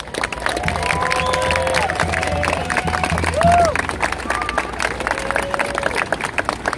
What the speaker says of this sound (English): I want to extend a big round of applause.